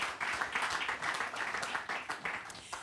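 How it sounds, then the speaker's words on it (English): Applause from an audience at an event announcing the Four'N Twenty Legends Game for prostate cancer, a short, fairly quiet burst of hand clapping. "Please, everybody give them a round of applause."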